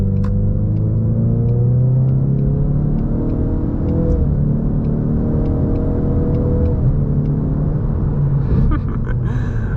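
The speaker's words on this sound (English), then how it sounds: "We'll do a little acceleration" A 2019 Ford Mustang EcoBoost accelerates gently, its engine rumble steady and loud inside the cabin with rising tonal harmonics and a whirring drone throughout, no speech.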